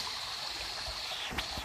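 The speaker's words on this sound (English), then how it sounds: "Running water down there." Water runs steadily through a sluice-like channel in a Derbyshire woodland stream, a continuous close hiss and trickle with one brief splash near the end.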